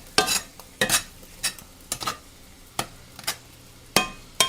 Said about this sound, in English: And start stirring it in with the sausage.